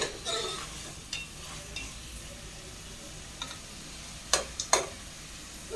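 Onions are sautéed in a pan for a tamarind curry with chickpeas and peanuts. A faint, steady sizzle runs underneath, broken by a few sharp taps and scrapes from stirring.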